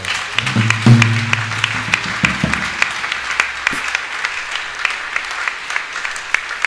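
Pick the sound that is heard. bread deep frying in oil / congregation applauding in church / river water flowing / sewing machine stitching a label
congregation applauding in church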